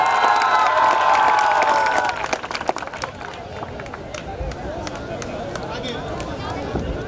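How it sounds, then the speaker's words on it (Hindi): Outdoor prize-giving at a mini marathon for the girls' category: a crowd cheers amid a loud voice at first, then scattered claps continue more quietly over the murmur. "एक बार जोरदार तालियों से इन बच्चियों का स्वागत करें।"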